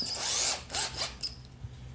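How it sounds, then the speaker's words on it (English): A power drill fitted with a center bit whirs in short high-pitched bursts while boring a hole, close and fairly loud, spinning up and easing off a couple of times. "So I'm just going to set my drill bit here, and I'm going to take a center bit."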